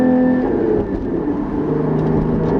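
A Porsche 981 Cayman GT4 fitted with an iPE exhaust rumbles and burbles on the overrun, a loud, close, low growl that holds steady throughout.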